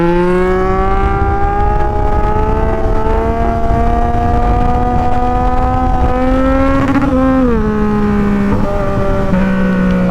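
A Yamaha MT-09 motorcycle ridden in second gear, with a loud, close, steady engine drone that holds a sustained tone, rises slightly and then dips near the end.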